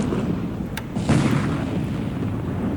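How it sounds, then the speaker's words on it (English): Torpedo hits explode in the War in the Pacific: AE naval war game, set in December 1941, giving one muffled, rumbling boom over a steady low background drone. "So 2 torpedo hits"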